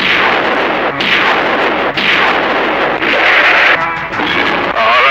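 Gunshots in a Bangla movie scene, a series of loud, sharp booming blasts roughly once a second, each with a broad crackling tail, with no talk over them.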